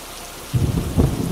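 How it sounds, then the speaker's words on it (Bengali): Heavy rain hisses steadily while deep rumbles of thunder roll in twice, close and heavy, with no voices. "রাত হতেই শুরু হলো প্রবল বর্ষণ সে কি প্রচণ্ড বৃষ্টি"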